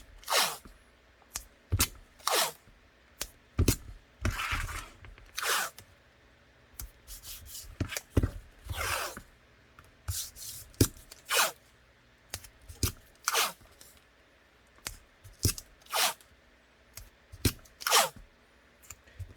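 Tape is pulled off the roll and torn in short, sharp ripping bursts as it goes over a Glock 40 MOS slide, repeating irregularly about every second, close and crisp against a quiet background.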